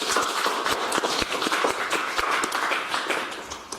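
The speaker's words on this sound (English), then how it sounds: "let's give a warm round of applause to Matthias" Audience applause for a speaker at a talk on a command line music player, a modest room of people clapping with distinct individual claps, steady then tapering off near the end.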